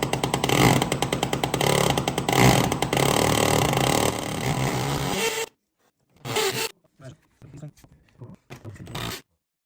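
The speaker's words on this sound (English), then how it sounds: "we just need to drill a hole in the right place into the stone" A power drill grinds loudly and continuously into a travertine stone floor, then stops and restarts in several short bursts with quiet gaps between.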